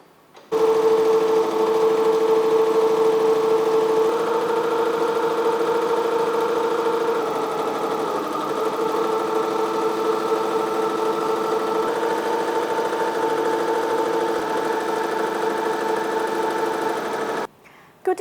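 A BAi embroidery machine stitching flat embroidery, giving a loud, steady mechanical hum with a fast, even rattle that runs unbroken before stopping abruptly.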